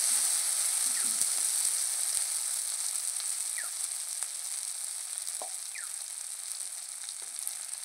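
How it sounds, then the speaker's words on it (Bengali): Ginger-garlic spice paste sizzles steadily in hot oil for a village-style chela fish curry, a continuous close frying hiss broken by a few faint stirring clinks. "দেখো আমার মশলাটা প্রায় ভালো করে ভাজা ভাজা হয়ে গেছে।"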